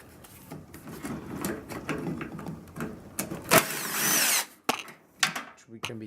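A power tool working on a microwave oven as its lamp piece is taken out; a brief loud, close whirring burst rises over quieter handling noises, followed by a few short clunks.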